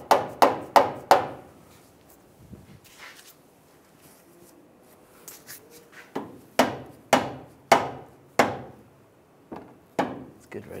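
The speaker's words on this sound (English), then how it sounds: "If you have to, you might just take a rubber mallet, just give it a tap it in place." Rubber mallet tapping a tow hook into place on a 2007-2013 Chevy Silverado 1500: a quick burst of four sharp knocks, a quiet pause, then a further run of evenly spaced taps, close and loud.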